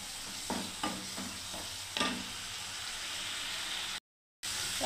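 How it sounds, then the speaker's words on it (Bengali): Vegetable spice masala sautéed and stirred in oil with eggplant cooking, a steady soft sizzle with a few spatula scrapes, then a brief dropout to silence before the frying resumes. "সবজি মশলাটাকে কষতে থাকছি"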